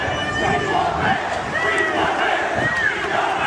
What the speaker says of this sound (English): You got a big crowd, ladies and gentlemen.